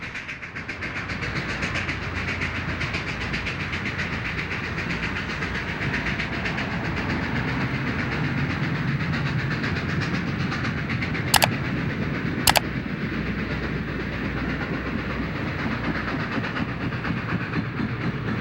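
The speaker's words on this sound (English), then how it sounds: "A shiny GS3 leads train 99 as it passes Potrero Tower and arrives in town." A Southern Pacific GS3 steam locomotive leads train 99 past Potrero Tower, a loud, sustained rolling rumble with rhythmic wheel clatter and two sharp metallic clicks near the end.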